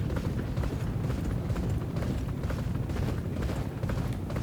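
Racehorse hooves gallop in the Champion Jockey video game, a low, rapid drumming rhythm that rumbles steadily throughout, fairly muffled and alone without speech.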